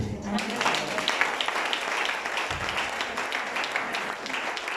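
A church congregation applauds in a dense, continuous round of clapping with voices mixed in, loud and close throughout.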